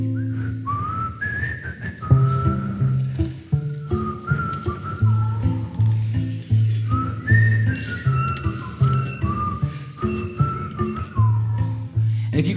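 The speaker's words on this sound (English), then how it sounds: "can you please whistle this melody?" Many people whistle a melody together, the tune rising and falling in bright phrases over a pulsing low accompaniment.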